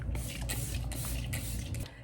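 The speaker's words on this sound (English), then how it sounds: "So this is literally just facial spray by Bioma." Bioma balancing facial mist sprayed from a pump bottle during skin prep, a steady broad hiss lasting about two seconds, close and fairly loud with no talking.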